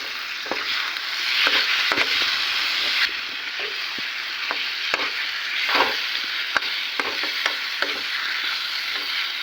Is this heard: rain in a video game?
no